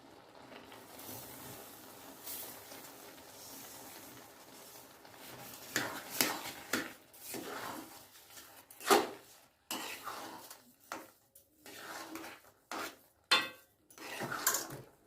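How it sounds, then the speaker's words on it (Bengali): Sugar is stirred into a carrot sweet mixture in a pan. A utensil scrapes and clinks against the metal in quiet, irregular bursts that grow busier and louder toward the end. "চিনিটা ভালো করে মিশিয়ে নিচ্ছি।"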